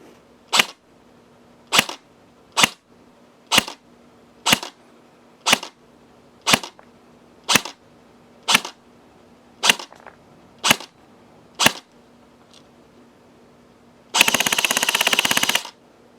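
A King Arms SIG SG 516 airsoft rifle fires eleven single shots of 0.2 gram BBs at an even pace, each a sharp crisp crack. A short loud burst of full-auto fire follows after a pause.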